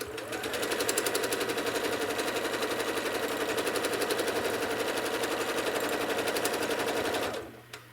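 A sewing machine runs steadily for about seven seconds during free-motion quilting, a fast even rattle of stitches, close and loud, before stopping abruptly.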